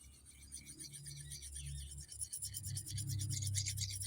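Steel knife edge drawn lightly along a ceramic sharpening rod, a soft raspy scraping that repeats in quick strokes, close and quiet with no talking.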